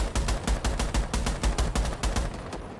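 Rapid automatic gunfire from a Rainbow Six match, a dense run of loud, evenly spaced shots lasting throughout with no pauses and no talking.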